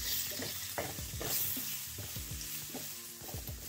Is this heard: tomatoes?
yes